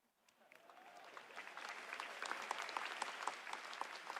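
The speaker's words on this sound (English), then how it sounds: "a round of applause for our pre-game show superstars, ladies and gentlemen." Large conference crowd applauding at a tech keynote in Taipei, starting softly and swelling into dense, sustained clapping, with no talking.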